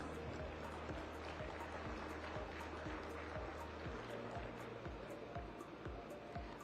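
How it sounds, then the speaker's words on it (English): An audience at a state partnership summit's valedictory session applauds in a steady, dense wash of clapping that fills the hall, continuous and moderately loud, with faint voices underneath. "Can we have a huge round of applause?"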